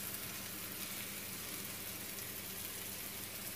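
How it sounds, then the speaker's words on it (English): Bacon sizzling in a hot pan at the start of a keto Cajun gumbo, a faint, steady hiss and crackle with no talk and no break in the sound. "Put the bacon in there. Let it cook a little bit and then we'll add the steak."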